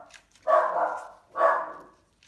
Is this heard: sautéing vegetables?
no